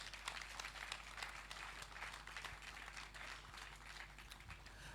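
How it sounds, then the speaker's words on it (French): Audience applause at the closing ceremony of an international colloquium, a steady dense patter of many hands clapping at moderate distance, continuous throughout. "Je voudrais encore une fois qu'on applaudisse pour Papa."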